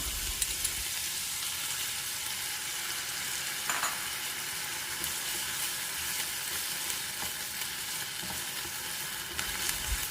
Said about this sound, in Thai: ผัดพอให้หมูสุกประมาณหนึ่งแล้วก็ใส่กะปิที่เราผสมไว้ได้เลยค่ะ